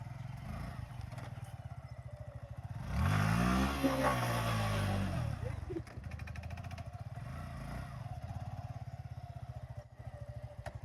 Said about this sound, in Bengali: আর এই যে আমার ছাপড়ি বাইকটা এখন চালিয়ে দেখাবো কেমন লাগে